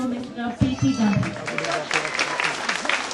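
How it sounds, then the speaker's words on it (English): Applause from a crowd at an Independence Day flag hoisting ceremony in Baramati, a steady wash of clapping rising after a voice and continuing loud throughout. "Give a big round of applause to Mr. P.T. Gandhi"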